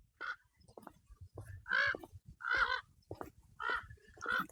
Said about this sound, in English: I'm bothering the birds here.